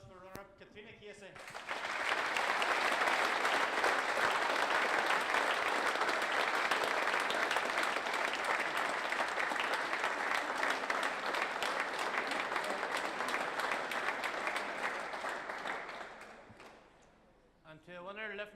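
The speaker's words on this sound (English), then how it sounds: "we give a round of applause for runner-up Katrina Casey" An audience gives sustained, even applause for the runner-up at the 2018 All Ireland Ladies Singles Final, rising quickly and holding for about fifteen seconds before fading out.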